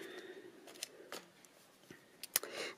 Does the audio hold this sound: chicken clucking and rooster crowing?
no